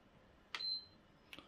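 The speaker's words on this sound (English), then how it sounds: "So you need to hear two beep sound." A short, high electronic beep from a PS5 console sounds once, faint against quiet room noise, followed by a brief click.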